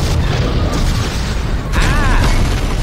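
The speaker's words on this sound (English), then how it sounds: "Explosions can be tasted" In a space video game, a ship's fuel containment fails and explodes: a loud, sustained rumbling boom with crackling debris, then a second surge with a warbling mechanical whine over the roar.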